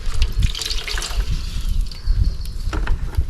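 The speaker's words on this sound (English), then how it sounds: "What I want to do is essentially flood this with water so that all the contents here are submerged fully." Water poured steadily onto an outdoor campfire to flood and drown the embers, a loud, continuous splashing rush with brief gurgles, close by.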